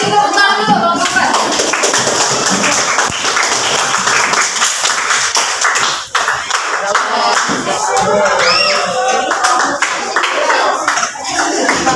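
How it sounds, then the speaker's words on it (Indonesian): A classroom group applauding a student presentation team, brisk scattered clapping from a small group mixed with voices and chatter throughout. "Kita kasih tepuk tangan dulu kelompok 4."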